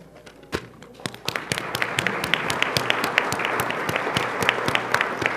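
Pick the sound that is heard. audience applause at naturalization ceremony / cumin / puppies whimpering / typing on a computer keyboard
audience applause at naturalization ceremony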